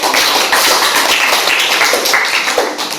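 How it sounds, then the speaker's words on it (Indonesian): Audience applause for a presenting group in a classroom session, a continuous loud patter of many hands clapping throughout. "Berikan tepuk tangannya."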